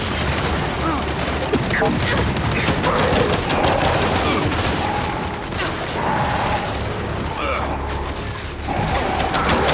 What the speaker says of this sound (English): We can't deal with those turrets!